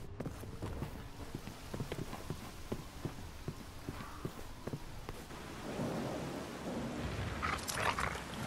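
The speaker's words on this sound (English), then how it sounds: "I guess there are worse things than chasing a dog through a cemetery" A dog in a cemetery in the video game Resident Evil 6, heard as a run of sharp, fairly faint paw or footfall clicks over a rumbling stormy ambience of thunder and rain that grows louder toward the end.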